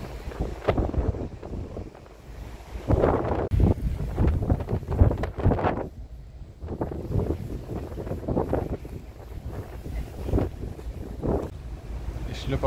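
Wind gusting across the open deck of a ferry at sea, a steady rumbling buffet against the microphone that swells and eases in waves, with no voices over it.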